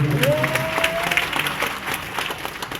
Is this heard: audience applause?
yes